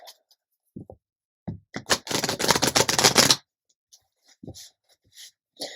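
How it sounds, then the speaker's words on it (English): A deck of tarot cards is shuffled close up, a dense riffling burst lasting over a second, surrounded by scattered light taps and card handling, with no talking. "One more shuffle for this one,"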